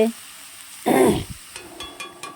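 A spice paste of onion, ginger and chili hits hot oil with a sudden loud sizzling burst, which then settles into faint crackling and spitting.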